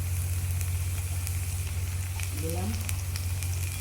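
Spices frying in raw mustard oil for a prawn and coconut curry give a steady close sizzle throughout, with a few voiced words spoken briefly over it.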